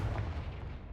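A short booming blast from the Confringo spell in Hogwarts Legacy, a single loud burst that quickly rumbles away.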